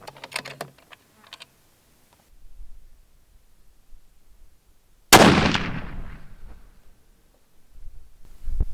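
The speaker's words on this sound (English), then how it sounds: "Go ahead and shoot the last 2 for this load." A single loud rifle shot during load testing at the range, a sharp blast at mid-clip with a ringing decay, preceded by faint handling and clicking noises.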